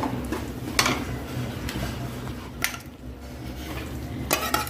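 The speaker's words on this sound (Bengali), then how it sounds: "কড়াইতে একটুখানি তেল দিয়ে দিলাম, দেওয়ার পরে এখন আমি হচ্ছে রসুন দিয়ে দিব, দিয়ে হালকা ভেজে নিব রসুনগুলা" Garlic lightly frying in a little oil in a wok, a soft, steady sizzle punctuated by several sharp clinks of a utensil against the pan.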